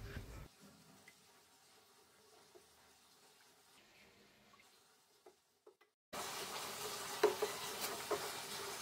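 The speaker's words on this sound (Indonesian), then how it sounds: "Nah terus kita aduk-aduk, jangan lupa mengaduknya sampai ke dasar wajan supaya adonan tidak ada yang mengerak" Pumpkin pudding batter is stirred in a wok, soft scraping and faint sloshing at first, then a louder stretch of bubbling, sizzling stirring near the end.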